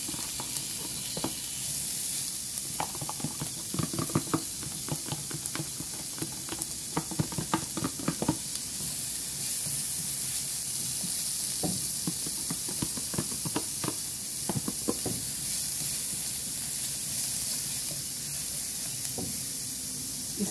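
Sliced onions sizzle steadily in a hot pan as they are sautéed for ginisang pipino with shrimp, a constant bright hiss overlaid with irregular crackles and pops and occasional stirring scrapes.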